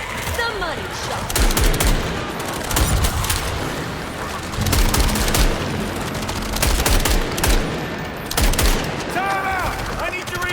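Rapid gunfire from the co-op shooter game John Carpenter's Toxic Commando, dense bursts and automatic fire repeating throughout, with explosions and battle noise and a voice briefly calling out amid the shooting.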